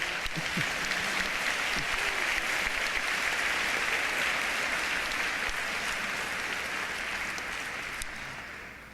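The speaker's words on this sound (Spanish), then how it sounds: "Un aplauso para mi Dalila" Steady applause from a church congregation fills the space evenly for the whole stretch, a dense wash of clapping hands with a few sharper claps and no clear voices.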